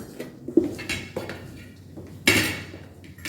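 Metal cutlery clinks and taps against a plate in a few scattered contacts, with one sharper, louder clatter near the end, close and clear with no talking.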